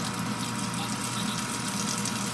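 A Toto C100 washlet running its soft rear water jet, a steady hissing spray with a pump hum underneath, continuous and even throughout with no talk.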